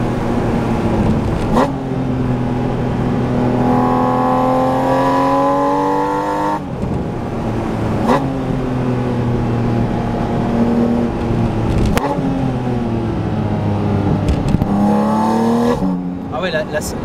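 Porsche Boxster Spyder RS engine on track, loud in-car revs climbing in long rising pulls, cut by sharp gear changes and dips under braking, with a person talking over the engine.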